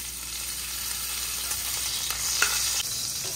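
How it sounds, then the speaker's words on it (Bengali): Bitter gourd slices fry in a pan with a steady, soft hiss of oil, an even sizzle throughout with a faint utensil touch near the middle; no voices. "উচ্ছেটাকে একটু আলগা করে ভেজে তুলে নেব।"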